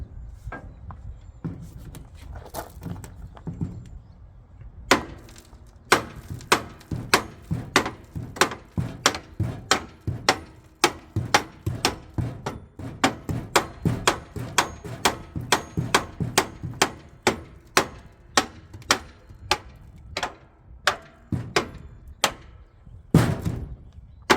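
Repeated sharp metal-on-metal hammer blows strike the front wheel of a rusty John Deere L130 lawn mower, a close, loud, irregular series of impacts.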